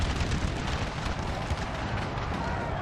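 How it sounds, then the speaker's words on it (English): In a Napoleonic battle video game, dense continuous rumbling of howitzer artillery fire and battle noise fills the scene, loud and unbroken. "And we're going to start shooting. Our howitzers are almost out of range."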